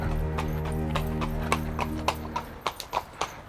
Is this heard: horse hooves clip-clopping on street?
yes